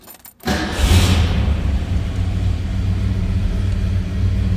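A 1964 Ford Falcon Sprint convertible engine fires up and settles into a steady, loud, close idle rumble, with a brief starter burst at the very start.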